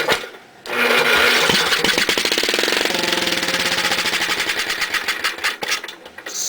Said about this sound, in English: I'm going to lower the throttle down a little bit more. Should run a little quieter and for a little bit longer.